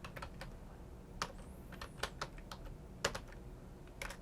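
Computer keyboard typing a terminal command while setting up a Raspberry Pi robot car, a quiet scatter of crisp separate key taps at an uneven pace, close up, with no voices.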